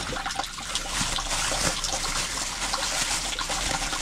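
Food is rinsed under running tap water, a steady close splashing and trickling without pause and no voices.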